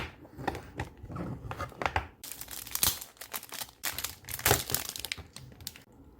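Plastic packaging around a Qiyi MS speed cube crinkles and crackles close up in irregular bursts, with sharper rustling peaks, alone without talk.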